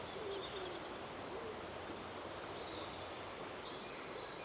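Early-morning woodland dawn chorus with song thrush, mistle thrush, crow, robin, wren, wood pigeon and blackbird, faint distant whistles and chirps scattered over a steady hiss of quiet ambience.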